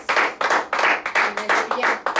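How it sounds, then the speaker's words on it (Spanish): Congregation in a church service clapping in steady rhythmic bursts, moderately close and without talk. "denle un aplauso fuerte al Señor"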